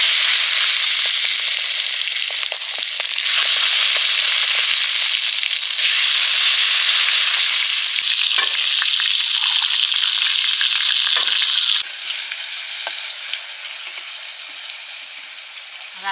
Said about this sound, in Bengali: বেগুনগুলো আগে ভেজে নিচ্ছি।